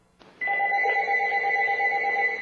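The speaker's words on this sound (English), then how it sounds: "When the phone rings, we glance at the caller ID to see who it is." A telephone rings with a steady electronic warbling tone that starts abruptly after a brief quiet moment and then holds loud and continuous to the end, close by, with no voices.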